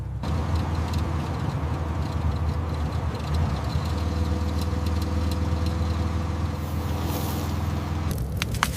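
A van engine runs steadily on a mountain road, a continuous low rumbling drone with broadband road noise that holds at a constant level throughout, close and fairly loud, briefly thinning near the end.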